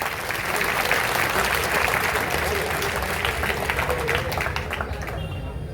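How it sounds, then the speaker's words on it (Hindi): A crowd at a Sardar Vallabhbhai Patel Jayanti event in Etawah claps continuously, a loud and dense roar of applause lasting about five seconds before tapering slightly at the end. "2 तालियां बजा दीजिए"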